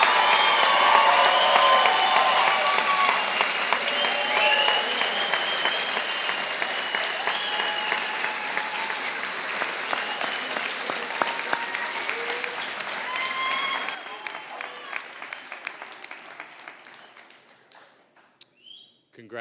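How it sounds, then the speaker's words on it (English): Sustained audience applause at a university commencement for hospitality and sports management graduates, loud and continuous for about fourteen seconds before tapering off into scattered claps and quiet. "Can I ask everyone to give a round of applause, congratulations to all of our bachelors."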